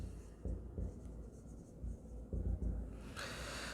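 Pen or pencil writing figures by hand on paper during an accounting lesson, a close, soft scratching with short strokes and pauses, no talk.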